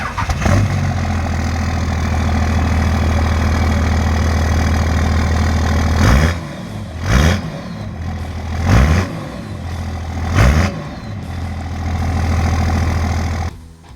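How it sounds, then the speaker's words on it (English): Cummins turbo diesel in a lifted C10 squarebody truck with a four-inch straight pipe exhaust, rumbling loudly at idle up close, then four sharp blips of throttle before settling back to a steady idle. "Four-inch exhaust all the way back, just straight pipe. So it's pretty loud."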